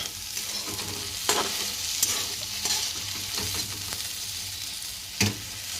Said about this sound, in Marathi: मी ज्या इथे फक्त असं तेलात परतून घेते